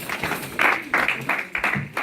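A church congregation briefly applauds the word of the Lord, bursts of clapping that swell and fade in rough pulses over a couple of seconds.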